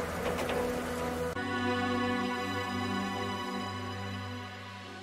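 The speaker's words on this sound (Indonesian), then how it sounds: "Lalu turunlah hujan yang lebat." Heavy rain pours down in a steady, loud wash that starts suddenly and holds, with no voices over it.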